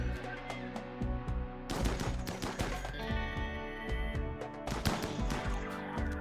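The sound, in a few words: assault rifle gunfire in the video game RimWorld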